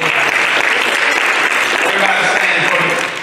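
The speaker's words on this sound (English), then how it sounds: "Come on, clap those hands." Congregation at a Sunday worship service claps hands loudly and continuously, a dense close wash of applause filling the room without a break.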